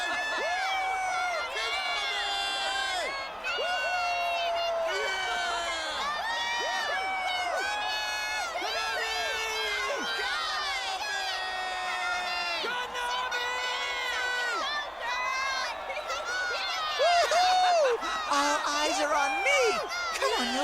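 A crowd cheers and whoops at a concert in the video game Persona 4: Dancing All Night, a continuous swell of excited, tonal voices that rises louder toward the end.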